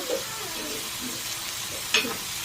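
Chicken kebab pieces frying in oil, a soft continuous sizzle close by with one brief sharp clink partway through, fairly quiet and without speech.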